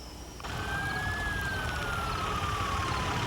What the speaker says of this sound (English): We heard the sirens